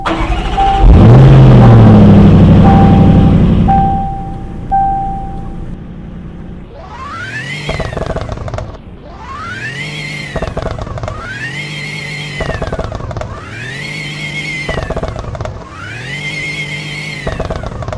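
A car in the Roblox game Greenville starts up after a loud burst of game noise, then revs repeatedly in five rising-and-falling sweeps, each a loud, smooth engine swell following the last at a steady pace.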